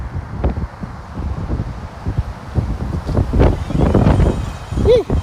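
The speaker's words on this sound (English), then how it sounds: "It is windy out here though" Gusty wind rumbles and buffets the microphone in uneven bursts, growing stronger toward the end, with faint voices and rustling underneath.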